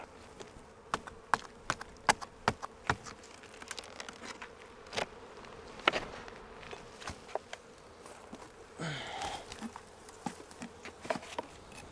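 Honeybees buzz around an open backyard hive in California during a mite treatment, a steady low drone broken by scattered sharp clicks and taps from close work at the hive.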